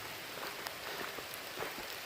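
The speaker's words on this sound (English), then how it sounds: "it started raining before I got to this shelter" Rain falls on an Appalachian Trail shelter in Great Smoky Mountains National Park, a soft steady patter with a few scattered louder drops close by.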